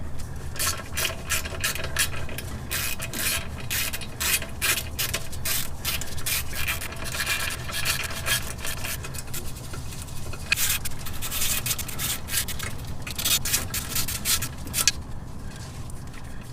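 A ratchet clicks rapidly and repeatedly in close-up bursts as 12mm bolts come off a clutch pressure plate, with short pauses between runs of crisp pawl ticks over a low background hum.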